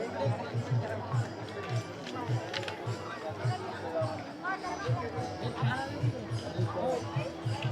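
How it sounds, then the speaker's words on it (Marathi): A dense crowd of pilgrims at the Pandharpur Wari fills the air with continuous chatter and babble, with rhythmic drum-like beats pulsing steadily beneath the hubbub. "बघा किती गर्दी आहे इथे अजून सुद्धा."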